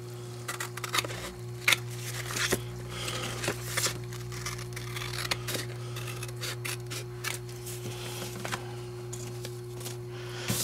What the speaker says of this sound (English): And I'm going to cut it right down the middle.